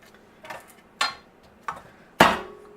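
Garlic cloves being smashed with a knife and peeled on a cutting board for a beanless meat chili: four sharp, separate knocks spaced about half a second apart, the last one loudest, with no talking.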